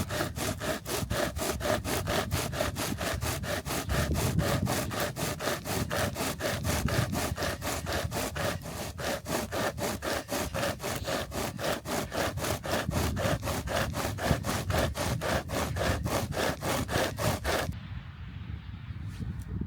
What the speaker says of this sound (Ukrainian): Тримаємо ногою і пиляємо